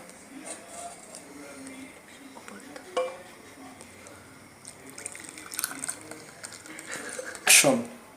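Coffee is poured into a cup in soft trickles and drips that grow into a louder splashing pour at the end.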